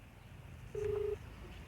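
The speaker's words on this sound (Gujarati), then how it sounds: "હવે તો કેવિનને ફોન કર" A single steady telephone keypad tone sounds as a number is dialed, one clear beep of under half a second over a low background hum.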